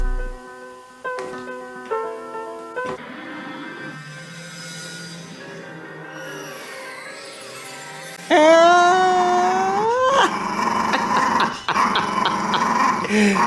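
A small chihuahua-like dog growling and yipping in rising, uneven bursts. The sounds come close and loud, grow more intense toward the end, and are mixed with some whimpering.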